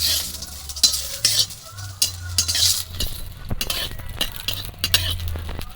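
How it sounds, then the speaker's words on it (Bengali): Dried red chillies fry in oil in a kadai, giving a crackling sizzle broken by repeated stirring scrapes and light metal clinks, fairly close and with no talking. "শুকনো লঙ্কা তেল দিয়ে দিলে ফাটে শুধু"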